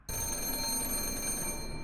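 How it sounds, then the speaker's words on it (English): A telephone bell rings steadily inside a dollhouse, a continuous bright electronic trill held at even loudness for nearly two seconds with no voices. "Inside the dollhouse, a ringing phone startles Luke"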